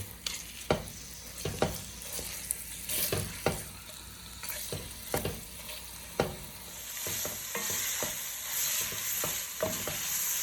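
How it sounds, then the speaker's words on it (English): Sausage browning in a pan for lasagna sizzles quietly and steadily, broken by repeated sharp scrapes and clacks of stirring, close by and without talk. "I'm going to start to brown up this sausage a little bit so some of the fat comes out before I put my ground beef in"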